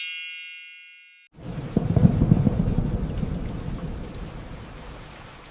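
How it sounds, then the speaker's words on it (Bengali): After a brief chime fades out, heavy rain breaks in with a deep rolling thunder rumble, then a steady downpour continues loudly and slowly eases. "আজকে তো বাইরে খুব বৃষ্টি হচ্ছে।"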